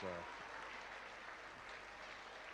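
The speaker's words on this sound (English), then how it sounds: "That's a great deal of applause for this" Arena crowd applauding after a professional wrestling bout in 1988, heard at a distance as a faint, even wash of clapping that follows a brief bit of voice at the start.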